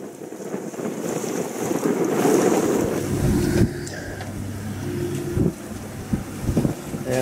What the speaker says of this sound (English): We're under sail.